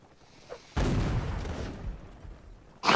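A single muffled musket shot in the game Napoleonic Wars booms and rumbles away, followed by another sharp crack at the very end.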